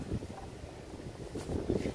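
Low, blustery rumble of wind buffeting the microphone, steady and close, with gusts swelling toward the end.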